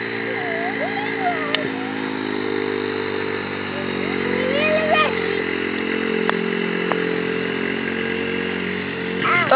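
A child's dirt bike engine runs steadily for the whole stretch, a buzzing, droning motor that rises and falls slightly as it rides, with voices faintly over it.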